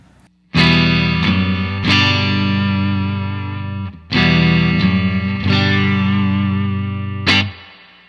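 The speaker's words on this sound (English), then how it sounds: "This is with the UAFX Dream on" A distorted electric guitar through a UAFX Dream amp modeler pedal set to a Marshall tone plays heavy sustained chords, struck several times with abrupt stops between phrases, loud and saturated with a slight chorus shimmer.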